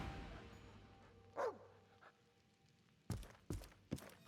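A dog in Divinity: Original Sin 2 barking, first a single yip, then three or four sharp close barks in quick succession near the end, over a quiet game background.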